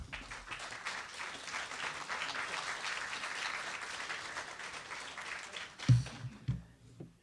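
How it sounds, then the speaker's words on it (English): Audience applause for a social justice speaker series event, steady broadband clapping from a full hall that fades out, followed by a few louder thumps near the end. "give them a big round of applause when they come out here"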